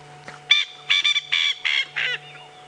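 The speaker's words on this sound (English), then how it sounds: "why don't we leave this male to continue his territorial calls" A small male bird calling territorially at sunset in African bush. Five harsh, harmonic calls come in a steady rhythm, fairly close and clear, with no talking.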